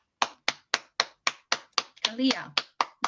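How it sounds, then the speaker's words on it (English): Small audience at an annual meeting clapping for award recipients, about a dozen sharp evenly spaced claps close by, interrupted briefly by a spoken name. "We'll call their names and give them each a round of applause"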